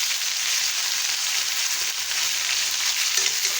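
Potatoes frying in oil for a potato and tomato curry, a loud, dense, unbroken sizzle close up with no talking.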